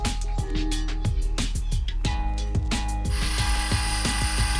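A grain mill cranks malt for a mash test at its slowest speed with a 37 gap setting, giving a steady mechanical ratcheting clatter of rapid regular clicks over a constant low hum, loud and close with no talk.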